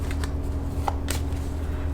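Tarot cards shuffled by hand in short riffling bursts, a few quick papery flutters close up against a quiet room hum, with no talking.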